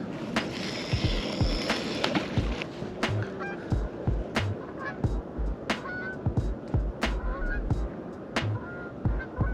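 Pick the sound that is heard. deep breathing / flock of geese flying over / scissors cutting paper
flock of geese flying over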